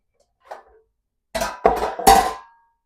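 Bread dough being set into metal baking pans in a home kitchen: three close, fairly loud clanks and thuds in quick succession, following a faint softer knock, with no voices.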